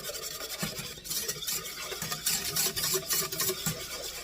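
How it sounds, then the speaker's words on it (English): Two egg yolks being beaten hard in a bowl give steady, rapid scraping and clicking strokes of a whisk or fork against the bowl, close and continuous with no talking. "we're going to beat together 2 egg yolks"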